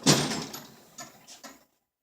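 A 52-inch Husky steel tool box drawer rolling open with a loud sliding rush that fades out, followed by two lighter clicks or knocks as it settles, then silence.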